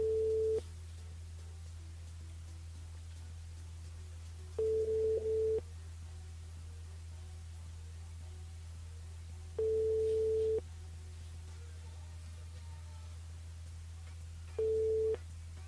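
Telephone busy signal on a call that goes unanswered: four steady beep tones recur about every five seconds over a low constant hum, with no talking.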